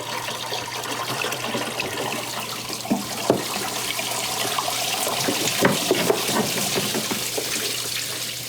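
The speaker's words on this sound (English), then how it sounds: "That's one way to flush your cooling system." Water from a garden hose gushes through the cooling passages of a Volvo 164 engine block with the core plugs out, a steady broadband splashing rush with a few sharper spurts, close and continuous with no talk.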